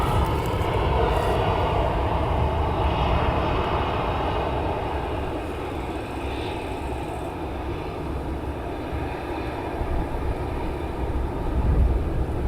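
Airliner taxiing at Amsterdam Schiphol Airport at lunchtime, a steady jet engine rumble and whine that holds fairly loud and even throughout, heard from a distance across the airfield.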